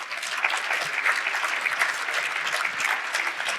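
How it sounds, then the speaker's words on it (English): Attendees at a real estate summit in Niagara Falls applaud themselves, a crowd of hands clapping steadily at moderate volume with no voices over it. "give yourselves a round of applause"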